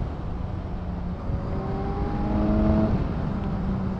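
A 2018 Kawasaki Z1000SX motorcycle engine rumbles and rises in pitch as it revs and pulls, a steady, close mechanical drone that swells slightly near the end.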